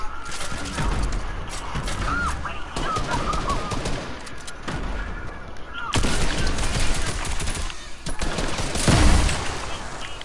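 Grenade blast amid rapid gunfire in an online shooter video game, repeated bursts of shots building to a louder explosion near the end, heavy and close.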